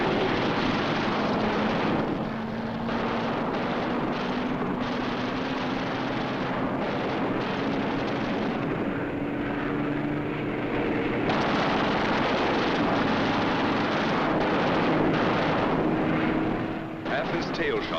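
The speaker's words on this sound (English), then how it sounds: "A B-17 catches fire and goes down in flames." A B-17 bomber in aerial combat catches fire and goes down, heard as a continuous roaring engine drone with rumbling bursts of gunfire and explosions, under a narrator's voice.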